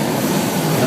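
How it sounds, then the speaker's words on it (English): A London Underground tube train rumbles steadily nearby in a station or tunnel, a continuous low roar with no distinct clacks, loud and unbroken throughout. "I can hear a train."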